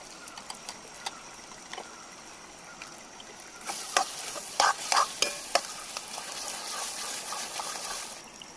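Melted onion and tomato fry for pav bhaji as ginger-garlic paste is stirred in, cooked outdoors by a stream; a soft sizzle rises into a louder, hissing fry midway, with scraping stirs and ladle knocks.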